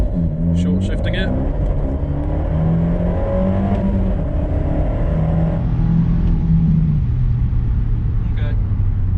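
A Bluespark-tuned Abarth 124 Spider accelerates hard with early upshifts, its engine note climbing and dropping in short stepped pulls, loud and steady throughout, while a person talks over it.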